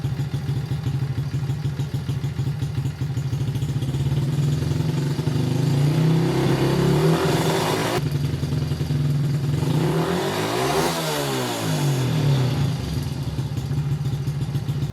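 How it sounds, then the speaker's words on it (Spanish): A motorcycle engine running on a test stand while its ignition coils are measured, revving up to higher RPM in a sustained, loud, close drone that rises and sweeps in pitch, with no talk over it. "cuando la moto levanta RPM"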